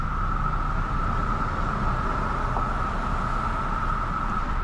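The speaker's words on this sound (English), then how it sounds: "but the cicadas are pumping out here" Cicadas along a roadside near a gas stop, a steady high-pitched buzz running unbroken under a constant wash of traffic noise, with no talk.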